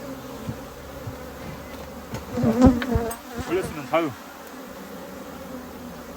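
Honeybees hum around an opened hive during a hive-box stacking inspection by an urban beekeeper in Seoul, a steady soft drone under brief Korean speech and the clatter of handled frames.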